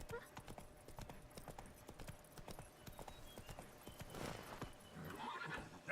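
Roach, the horse in Witcher 3: Blood and Wine, clip-clops along at a steady trot, hooves landing in a quick even rhythm over a low ambient bed, with a brief whinny-like swell near the end.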